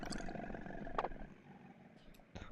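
Cry of a crocodile Pokémon in a video game, a faint, rough growl heard under background noise with a short sharper accent near the middle, lasting about two seconds.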